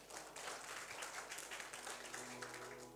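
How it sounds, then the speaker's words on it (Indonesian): A church congregation applauds during a Sunday service, with steady, dense clapping from many hands that sounds fairly distant and fills the room for a few seconds without pause. "Beri tepuk tangan yang paling meriah buat Tuhan kita."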